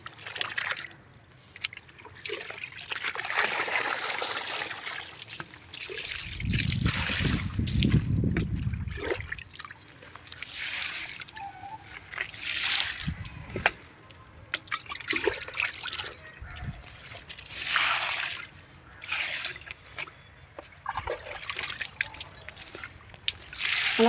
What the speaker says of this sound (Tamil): மறுபடியும் 2வது பக்கெட்டுக்கு இதுமாரி அரை டப்பா எடுத்தாந்து ஊற்றுறேன் நான்.